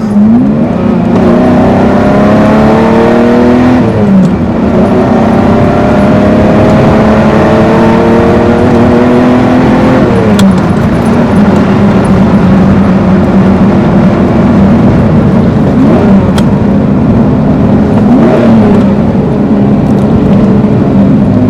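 A Ferrari Testarossa 512 TR engine revs hard and accelerates through several gear shifts on an open road, loud and close, its pitch climbing and dropping repeatedly.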